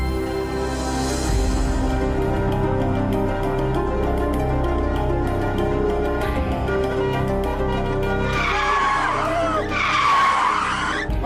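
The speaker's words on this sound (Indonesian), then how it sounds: "Ngebut banget sih ini mobil." A car speeds past and skids with tire squeals, engine roaring steadily before sharp screeching bursts near the end, loud and close, with faint background tones.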